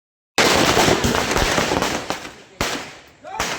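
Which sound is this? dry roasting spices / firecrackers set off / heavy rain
firecrackers set off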